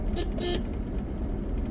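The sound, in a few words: car horn honking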